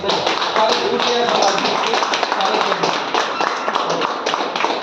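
Energetic audience clapping at an indoor class or seminar, greeting a senior guest teacher as people rise to applaud; dense, steady and close for the whole stretch, with voices mixed underneath.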